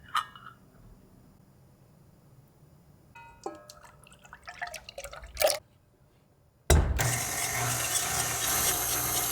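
An electric mixer whipping cream skimmed from fresh milk, starting with scattered clinks and rattles before the motor kicks in loudly and runs steadily at high speed.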